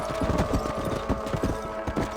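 Horse hooves clip-clopping in Red Dead Redemption on a ranch, a steady rhythmic trot of close, fairly loud hoofbeats over a low ambient hum.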